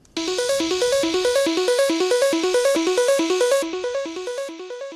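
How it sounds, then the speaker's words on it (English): A plucky synth repeats a short, bouncing melodic pattern, each note sharp and quickly decaying, steady rhythm, alone and clear, fading slightly at the end. "here's what the pattern sounds like"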